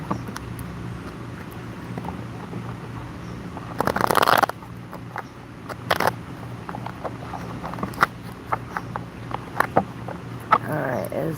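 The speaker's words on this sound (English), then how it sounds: "Let me shuffle for Jen C." Playing cards shuffled and handled up close, with a brief louder riffle burst followed by scattered soft clicks and flicks over low background hum.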